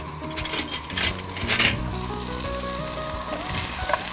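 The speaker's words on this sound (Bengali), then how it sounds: "পেঁয়াজ কুচি দিয়ে দিচ্ছি আমি।" Chopped onion hitting hot oil after tempering spices, a loud, dense sizzle and crackle close up that swells as it goes in, with a few clinks of a metal spoon against the pan and no voices.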